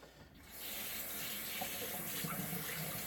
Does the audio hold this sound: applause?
no